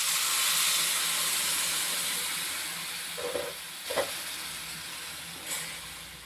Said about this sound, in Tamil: புளி கரைச்சி வச்சுருக்கோம் அந்த புளியை ஊற்றிக்கிறோம்